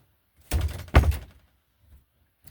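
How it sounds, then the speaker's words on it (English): A door is pushed shut: two quick, close thumps about half a second apart, followed by quiet, with no talking. "And shut my door"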